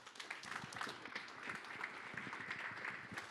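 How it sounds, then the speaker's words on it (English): Audience applause filling a room after a motivational talk, steady dense clapping throughout at moderate, distant level with no voices on top. "just give yourself a round of applause"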